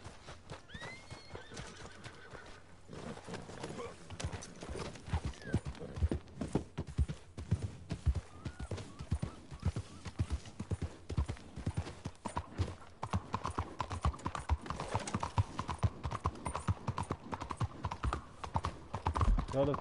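Another player's horse in the Red Dead Online video game clip-clops steadily and rhythmically throughout, with a neigh and other game sounds in the mix.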